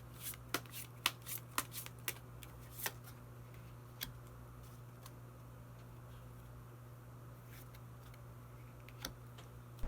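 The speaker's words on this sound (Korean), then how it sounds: "마지막으로 히든 카드 한 장 더 뽑아보도록 하겠습니다" Tarot cards are shuffled and drawn in a quiet room: a quick run of crisp, close card snaps and flicks at first, then a few isolated soft clicks spaced apart over a low steady hum.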